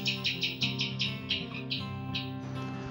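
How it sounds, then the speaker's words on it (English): A female tailorbird chirps near its nest in a tree, giving a quick run of sharp, high, repeated calls close by, with steady background sound underneath. "Meanwhile, the female tailorbird came with chirps."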